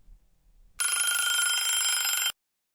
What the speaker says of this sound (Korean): 다음 날 전화가 왔습니다.